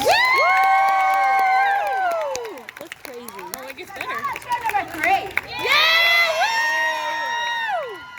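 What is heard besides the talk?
audience cheering at Renaissance festival circus show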